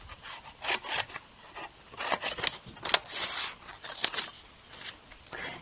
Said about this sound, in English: I'll go ahead and cut a piece of paper here